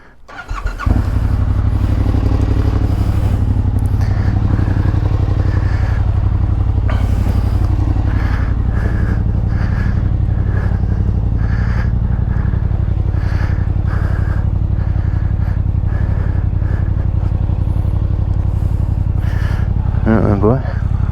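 Sport motorcycle, a Kawasaki ZX-6R or Suzuki GSX-R750, riding on the M25 motorway, a loud continuous engine drone and wind roar close up, steady throughout with brief voice fragments under it.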